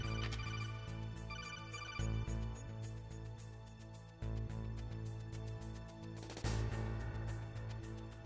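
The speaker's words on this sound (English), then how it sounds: "Phone call." An in-game codec phone call rings in Metal Gear Solid, a loud repeating electronic ringtone pattern looping in steady cycles, alone without speech.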